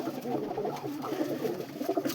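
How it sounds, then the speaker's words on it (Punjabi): A red Chinese gola pigeon coos close by in a steady run of throaty, rolling calls, fairly loud and continuous, with a faint voice in the background. "ਇਹ ਗਲੜਾ ਕਬੂਤਰ ਲੱਗਾ ਬਈ ਆਪਣਾ ਕਬੂਤਰੀ ਲਾਲ ਚੀਨੀ ਦਾ ਗਲੜਾ ਕਬੂਤਰ ਆਪਣਾ"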